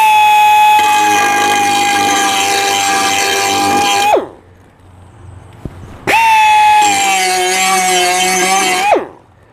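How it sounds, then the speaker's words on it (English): An AIRCAT 6260 1 HP pneumatic die grinder sharpens a mower blade in two loud, sustained bursts of high-pitched whining and grinding, separated by a short near-silent pause as the tool spins down. "let me go ahead and start grinding this to sharpen it"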